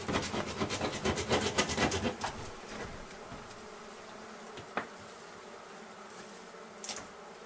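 Steady buzzing of bees during removal of a hive from a wall, denser at first and then thinning out, with a few faint knocks and scrapes.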